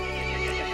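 A short horse neigh from the video game Resident Evil Village, a bright, wavering whinny, loud and close, with no voices.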